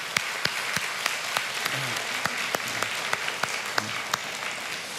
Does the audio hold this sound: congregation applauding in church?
yes